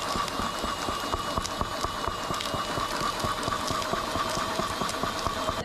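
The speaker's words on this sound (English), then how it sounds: "I'm just driving it with a drill here" A power drill spinning the pulley of a Nissan Rogue transmission, a steady motor whir with fast, even mechanical clicking from the turning parts, close and continuous with no speech.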